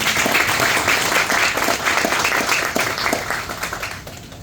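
A crowd applauds the fire company and rescue squad at a Homes for Our Troops house dedication in Howell, NJ, loud continuous clapping that tapers off near the end.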